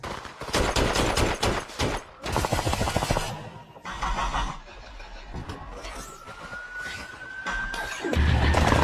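Rapid bursts of video game gunfire crackle in quick succession, loud and close, followed by a rising siren-like whine and a low rumble with scattered shots.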